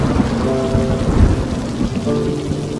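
Severe thunderstorm over Broome County, New York, with heavy rain pouring steadily and thunder rumbling low beneath it, loud and continuous for a few seconds with no voices.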